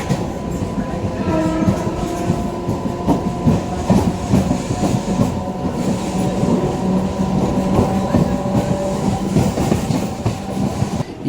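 A MEMU train pulls away from Umdanagar station after a short halt, a continuous loud rolling rumble with rhythmic clickety-clack of wheels over rail joints and a steady motor drone.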